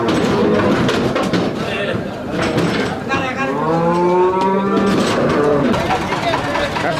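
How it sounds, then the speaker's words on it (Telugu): Buffaloes mooing at the Erragadda buffalo market, with several long, loud low moos rising over a crowded, noisy background of voices and general market bustle. "గేదెల సంత అంటే ఇట్లా ఉంటుంది."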